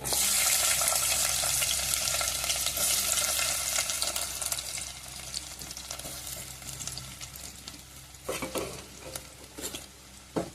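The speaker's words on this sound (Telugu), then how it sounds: "ఇప్పుడైతే ఆయిల్ అయితే హీట్ అయిపోయింది. ఇప్పుడు సన్నగా తరిగిన ఉల్లిపాయ, పచ్చిమిరపకాయలని ఇందులో వేసుకోవాలి." Finely chopped onions and green chilies hit hot oil for a village-style Telugu cucumber curry, loud sizzling and frying with stirring and scraping throughout, the hiss easing slightly partway through and a few sharper utensil knocks near the end.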